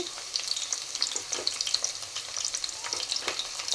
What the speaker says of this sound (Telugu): చూడండి నూనె అయితే కాగింది ఇందులో ఉల్లిపాయ ముక్కలు వేసుకుందాము పచ్చిమిరపకాయలు కూడా వేసేసుకుందామండి కొద్దిగా కరివేపాకు